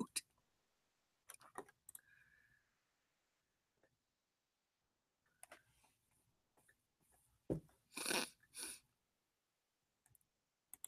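Computer mouse clicking while browsing social feeds during a livestream: scattered sharp clicks, some single and some in quick pairs, close and fairly quiet, with soft low background hum and brief bursts of other noise between.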